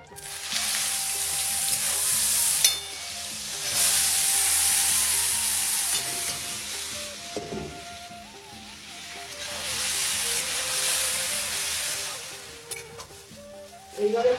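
Pointed gourd sizzling in a pan of oil with nigella seeds and chili, a strong hissing fry in long waves that swell and fade, with faint clinks of stirring underneath.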